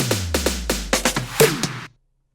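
Short drum fill in a progressive house remix, about a dozen punchy snare and tom hits speeding up with pitched tom tails and a deep sustained bass underneath, stopping abruptly into silence.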